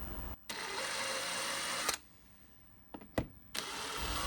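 Drilling 4.2mm pilot holes in a bolted-down metal plate: a drill runs in a steady whir, stops briefly, then starts again in short bursts with clicks between, close and moderately quiet.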